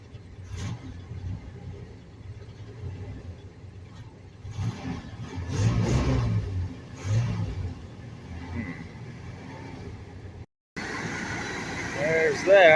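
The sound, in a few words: car engine struggling to idle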